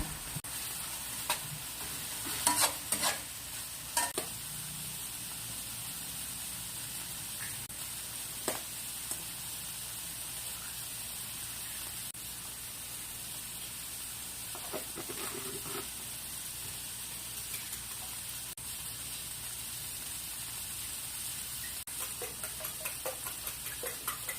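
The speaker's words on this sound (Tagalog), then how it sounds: "lagyan na natin itong bunga ng ampalaya" Bitter gourd is stir-fried with sautéed onion and tomato, giving a constant hissing sizzle with scattered clicks and taps of a spatula against the pan throughout.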